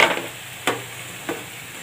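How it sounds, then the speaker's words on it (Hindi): Shankarpali snacks fry in hot oil while being stirred, giving a steady soft sizzling hiss broken by two light scraping clicks from the spoon. "इसको इस तरीके से चलाते हुए फ्राई करना है"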